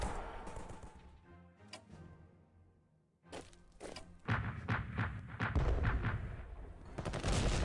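Artillery fire in the WW1 strategy game Strategic Command WW1 comes as scattered cracking shots, then denser rolling bursts that build in loudness toward the end.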